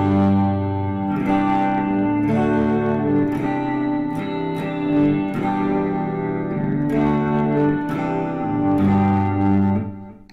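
Guitar played through a Spark amp on its acoustic setting, shimmering like a 12-string with chorus and effects; steady strummed chords ring out loud and continuous, alone with no voices.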